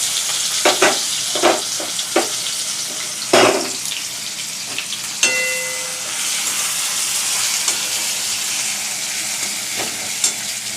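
Onions fry in a pan with a continuous crackling sizzle, broken by several sharp spoon knocks and scrapes early on, then a softer steady hiss.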